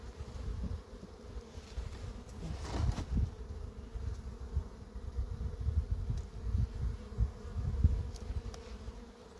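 Carniolan honeybees buzz steadily at a hive, a low, continuous hum with bees passing close now and then, fairly quiet and with no voices.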